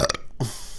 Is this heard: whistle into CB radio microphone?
no